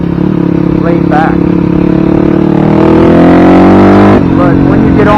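A 2006 Yamaha WR250F dirt bike engine drones steadily while riding, loud and close, its pitch rising and falling slightly with throttle as a rider talks over it.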